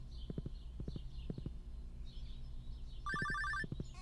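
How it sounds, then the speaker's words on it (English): A telephone rings in the Stardew Valley video game, a short bright electronic trill burst standing out over rhythmic clip-clop hoofbeats and soft game sounds. "the phone's ringing again"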